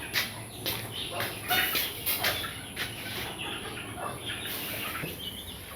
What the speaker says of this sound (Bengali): খাবার দিতেছে মুরগির।